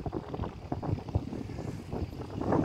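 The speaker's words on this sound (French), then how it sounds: "Il y a un peu de vent là, j'espère que ça va pas trop" Wind buffets a microphone outdoors, a low rumbling gusty roar with uneven surges that swells toward the end, with no talk.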